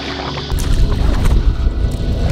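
Strong wind gusting across a river cove during a solo canoe trip, a loud continuous low roar that builds sharply after a brief quieter start and buffets the microphone throughout.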